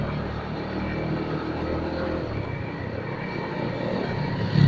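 A Benelli TNT 250 single-cylinder 250 cc sport motorcycle engine runs at a steady, loud drone while riding, with broad wind-like rush throughout and a brief swell at the end.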